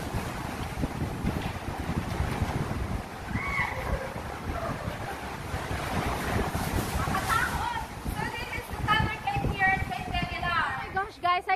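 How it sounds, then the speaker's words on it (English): Ocean waves wash and surge into a sea cave nearby with rushing wind buffeting the microphone, while people talk over the noise. "to hear the sounds of the waves coming in"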